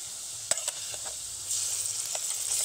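Chicken paste for meat-stuffed luchi drops into a hot karahi and fries with a soft sizzle and occasional stirring taps, the hiss rising after a moment; quiet and close, no talk.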